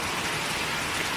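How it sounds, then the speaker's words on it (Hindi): Heavy rain pours steadily in a dense, unbroken hiss close by, loud and even across the short span with no voices. "ऊपर का माहौल देख रहे हैं कितने घने बादल चढ़े हुए हैं ऊपर और तेज़ बारिश हो रही है।"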